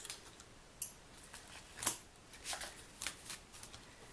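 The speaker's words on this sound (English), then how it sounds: "Cut that with my little snips." Small jewelry snips cut through stretchy beading cord, giving a couple of quiet, crisp clicks up close, followed by soft faint handling rustles.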